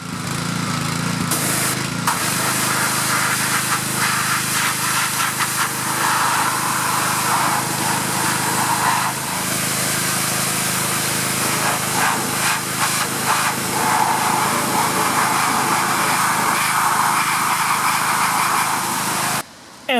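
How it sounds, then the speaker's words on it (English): A pressure washer cleans the hinges and joints of a Ford power running board, producing a loud, continuous harsh spraying roar with a motor drone underneath that persists nearly unbroken before cutting off at the end. "I'm going to pressure wash those hinges, each joint, and get all the grit and grime and salt and whatever else is in there out"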